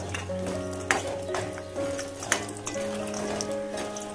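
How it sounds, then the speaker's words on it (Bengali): Lentil badi dumplings fry lightly in a generous amount of oil while being stirred, giving a steady close sizzle over a droning tonal hum, with a few sharper clicks along the way. "বড়িগুলোকে ভালো করে নাড়িয়ে চাড়িয়ে ভেজে নেব হালকা হালকা করে।"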